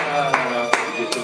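Three separate hand claps at a church service, evenly spaced and fairly close, sounding over sustained music.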